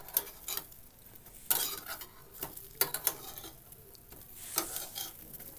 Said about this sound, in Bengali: আর এইভাবে আমি খুন্তি দিয়ে আবার টুকরো করে নিচ্ছি